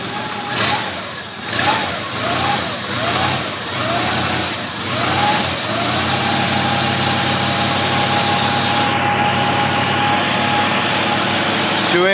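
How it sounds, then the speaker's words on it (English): A cold 1967 Pontiac Parisienne 2+2 with a 283 two-barrel V8 is revved several times in quick blips, then settles into a steady, fairly loud idle with a held rev near the end. "let's go and visit that engine. It's a little cold. Let's give it a little rev."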